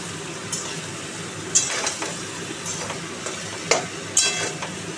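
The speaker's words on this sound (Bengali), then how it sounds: "আলু পটলটাকে ভালো করে নাড়িয়ে নাড়িয়ে ভাজা ভাজা করে" Potato and pointed gourd stir-fried in a pan, a steady low sizzle with repeated utensil scrapes and a few sharp metallic clinks against the pan, close up and without talk.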